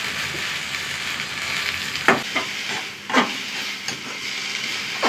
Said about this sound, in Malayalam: കുറച്ച് ഉപ്പ്, മുരിങ്ങിയിട്ട് കൊടുക്കാം.